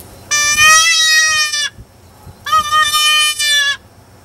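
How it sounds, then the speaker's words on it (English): Fawn bleat blown on a closed-reed predator call for coyotes: two loud, nasal, wavering bleats, each lasting over a second, separated by a short pause, close and clear. "you can do a fawn bleat"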